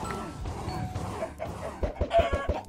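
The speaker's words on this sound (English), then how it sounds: "I'm also growing chickens here" Farmed chickens in modded Minecraft cluck in a short series of clipped, rhythmic pulses near the end, following a stretch of blended game noise.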